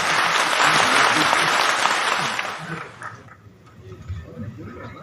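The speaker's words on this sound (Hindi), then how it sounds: "एक बार जोरदार तालियां बजा दें सुरेश अवस्थी।" At a Hindi poetry gathering (kavi sammelan) in Bhopal, an audience bursts into loud, vigorous applause for about three seconds, then it stops abruptly, leaving quieter room noise and faint low sounds.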